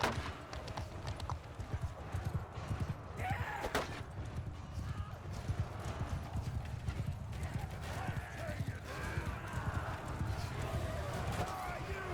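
Rhythmic hoofbeats of a galloping horse with a brief whinny, steady and fairly close, under ongoing Crusader Kings 3 battle sounds and a talking voice.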